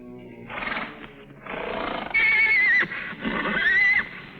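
A mare whinnies loudly in a series of long, wavering neighs with rising and falling pitch, several calls across a few seconds, close and alone with no talk.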